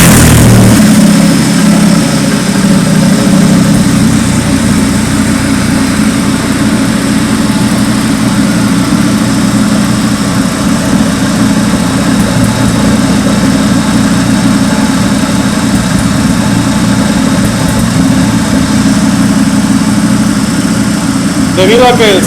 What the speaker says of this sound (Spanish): con el motor funcionando